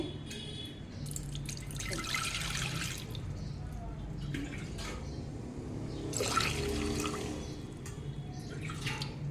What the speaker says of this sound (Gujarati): હવે આપણે એક કૂકર લઈ લેવાનું છે એમાં આપણે ત્રણ ગ્લાસ જેટલું પાણી મૂકવાનું છે